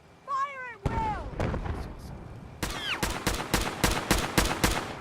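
Rapid shots in the Fallout 4 Far Harbor game, a string of sharp, loud gunfire cracks in quick rhythm, preceded by a creature's rising call and a few scattered blasts.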